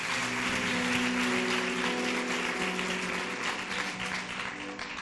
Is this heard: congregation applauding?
yes